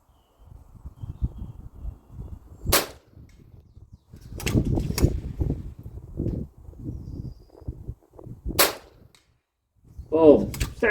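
A sub-12 ft-lb FX DRS Tactical .22 airgun fires on a 100 m outdoor range, giving two sharp, brief cracks a few seconds apart, each clear above a low background murmur of talk.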